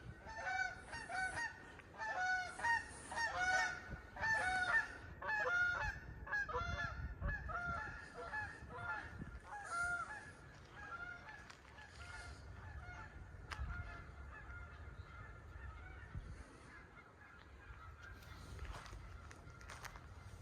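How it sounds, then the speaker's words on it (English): A flock of geese honks noisily at a moderate distance, busy overlapping calls with shuffling footsteps and some faint background noise. "those guys are still being loud. I mean, bro, they're geese."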